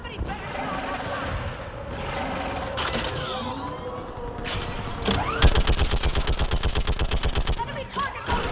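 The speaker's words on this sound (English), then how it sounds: "Get on that gun up there and do some damage!" A mounted gun fires in the game Mass Effect 3, with a rapid, steady burst of heavy automatic shots in the second half. Earlier, game speech and battle noise play, and a voice talks over the action.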